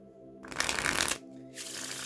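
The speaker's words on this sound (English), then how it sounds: "So you can legitimately give the deck a shuffle" A deck of playing cards is riffled in a quick shuffle, a crisp, close burst of fluttering card edges lasting about half a second, followed by a shorter second riffle.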